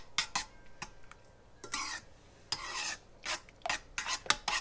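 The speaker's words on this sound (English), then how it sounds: "Give that a good stir." Garlic is stirred in a pan for stuffed peppers, a spoon scraping and rasping across the metal in several short, distinct strokes with brief quiet gaps between them, close and fairly soft.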